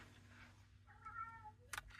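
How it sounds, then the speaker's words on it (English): A house cat cries out with a drawn-out, wavering meow at moderate distance, followed by a brief clatter nearby in an otherwise quiet room. "my cat is crying for some reason"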